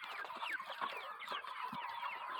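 A flock of bantam chickens clucks and chatters continuously, several birds overlapping at close range with a steady, busy murmur.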